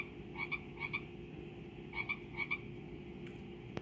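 Frog calls in quick paired bursts, several double croaks repeating at a steady rhythm over a constant low ambient hum, clear and fairly close.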